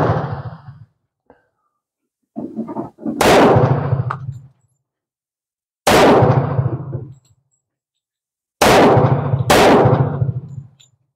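A pistol with a hair trigger fires at an outdoor shooting range: several loud, sharp reports ring out at irregular intervals, one double shot among them, each followed by a short echoing decay, with a few quieter mechanical clicks between.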